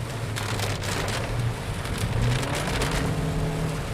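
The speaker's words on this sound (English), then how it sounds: "And it's raining cats and dogs again." Steady heavy rain drumming in a dense hiss, with the low rumble of a Honda City hatchback driving on wet roads on Gunung Raya underneath throughout.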